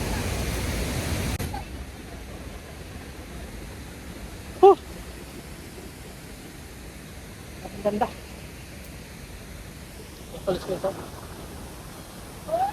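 Tangadan Falls roars as a steady broadband rush of falling water, loud at first and then softer and continuous, with a few brief voices and shouts breaking through.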